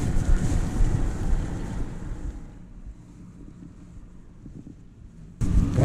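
The flooded Macquarie River rushes past, heard as a broad roar mixed with heavy wind buffeting the microphone, loud at first, then easing before gusting up again, with no voices.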